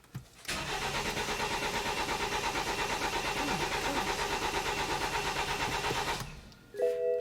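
BMW X3 starter cranking steadily for about six seconds without the engine catching, a loud, even, rapid churning that stops abruptly, followed by a short electronic chime.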